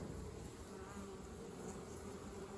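Bees buzz in a dense, continuous drone close by as a hive is smoked and opened, a low steady hum with no pauses and no voices.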